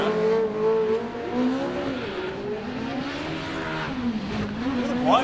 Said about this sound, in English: I love listening to that SR20 wind up.